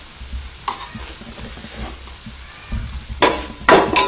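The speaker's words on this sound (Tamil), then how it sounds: "நம்ம வறுத்த பொடினால லேசா வதக்கிட்டா மட்டும் போதும்" Roasted curry leaf powder is stirred lightly in a pan for curry leaf rice, a faint low sizzle growing into sharper scraping strokes of the spoon near the end.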